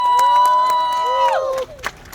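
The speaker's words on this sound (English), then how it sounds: "give yourselves a big round of applause everybody" A crowd at a Tigrayan peace demonstration in Christchurch, New Zealand, cheering with a sustained high wavering cry above scattered clapping, loud and close, before it drops off abruptly.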